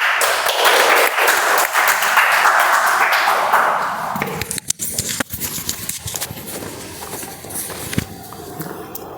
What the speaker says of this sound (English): Let's welcome with huge round of applause Toastmaster Loganathan.